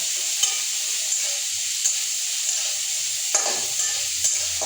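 Chopped green chilies sizzle in hot frying oil with a steady broadband hiss, with faint stirring taps every half second or so and no voices.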